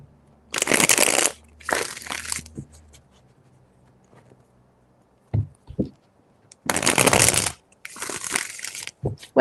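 Tarot deck shuffled by hand in several quick riffling bursts, close and crisp, with short pauses and soft card handling between them, no talking.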